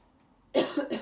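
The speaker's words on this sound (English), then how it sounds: "Please excuse my cough." A single cough, loud and close, bursting out after a moment of quiet, with a second smaller cough following.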